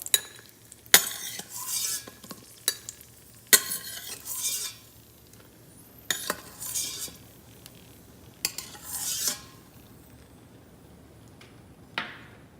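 Cashews frying in ghee are stirred with a metal utensil, giving intermittent clinks and scrapes against the pan over a soft sizzle, close and in irregular bursts.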